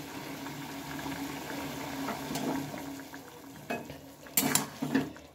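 Cabbage with fried egg being stirred in a cooking pan, a low simmering bubble underneath with scattered scrapes and a few sharp utensil clinks near the end, no one speaking.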